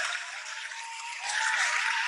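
Applause from attendees at a Rotary awards event, a steady wash of many hands clapping that swells slightly louder toward the end, with no voices over it.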